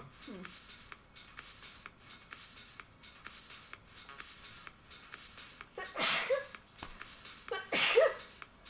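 Two sneezes a couple of seconds apart, fairly close and breathy, over a quiet room background with faint rustling, heard during a radio chat show.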